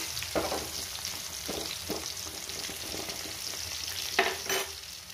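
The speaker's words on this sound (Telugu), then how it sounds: "చూస్తున్నాం కదా, అన్నీ మంచిగా ఫ్రై అయిపోయాయి." Spiny gourd (boda kakarakaya) fries in a pan with spices, a continuous close sizzle broken by repeated scraping stirs of a spoon against the pan, with no talk.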